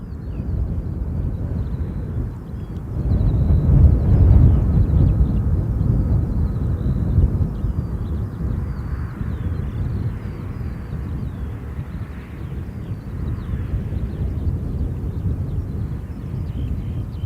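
A Saudi airliner on approach at London Gatwick Airport, a steady loud jet roar that swells and holds throughout, with some wind buffeting on the microphone.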